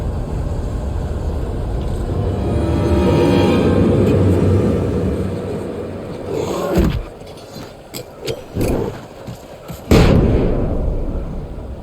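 A flashbang grenade goes off in the action game Alan Wake Remastered: a loud, swelling roar builds and cuts off, followed by scattered crackles and thumps and a sharp, heavy burst near the end.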